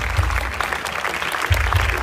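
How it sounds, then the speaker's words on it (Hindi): Congregation applause at a live worship service at a revival festival, a short, steady wash of clapping over booming low hall resonance and faint voices. "आइए खुदा के खादम के लिए जोरदार तालियां बजाएं।"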